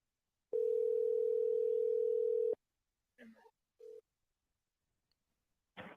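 A steady telephone dial tone hums for about two seconds, followed by a few brief, faint sounds and then silence.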